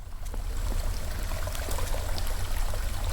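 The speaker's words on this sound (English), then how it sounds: "We got a busted pipe leaking water." Water leaks from a busted pipe in the video game Chants of Sennaar, a steady, continuous rushing trickle like a small stream that runs unbroken throughout.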